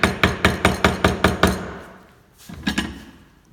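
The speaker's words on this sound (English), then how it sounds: "I'm just going to use a chisel again. Just to go down a little bit deeper" A chisel being hammered into wood, seven sharp, evenly spaced close strikes in quick rhythm, then a pause and a few softer taps.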